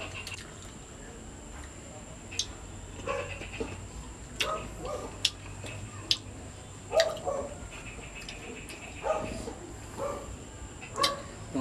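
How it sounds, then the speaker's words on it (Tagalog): A dog barks off and on in the background during an outdoor meal of green mango, giving scattered single barks amid faint ambient noise and some talk. "Yung aso naman, laging kumatahol."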